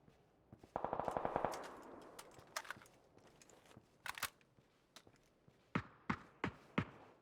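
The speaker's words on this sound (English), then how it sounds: "Sparking from 22 is taking some good shots at Team Liquid as well." Gunfire in a PUBG esports scrim match: a rapid automatic burst early on, then scattered single shots and short cracks at varying distances, fairly quiet overall with no talk over it.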